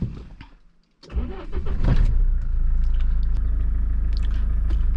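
After a few clicks and a brief pause, a 2011 Mahindra Scorpio's 2.2-liter four-cylinder diesel engine cranks and catches, then settles into a steady low idle, heard close with no talking.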